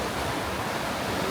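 Steady rushing of a stream flowing under an Appalachian Trail footbridge, a dense close hiss of moving water with no voices.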